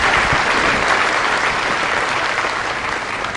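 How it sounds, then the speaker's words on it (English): A large crowd at a state funeral for a president applauds heartily, a thick, continuous wash of clapping that holds steady throughout. "kindly ask you all to give a real hearty applause"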